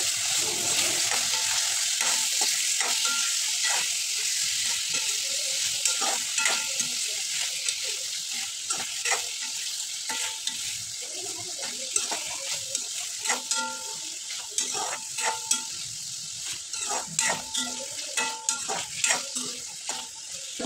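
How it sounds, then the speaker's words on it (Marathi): Chopped tomatoes and onion sautéing in a pan, a continuous close sizzle broken by scraping and clinking of a spatula stirring against the metal, with no voices. "टोमॅटो पण चांगले परतून घेते."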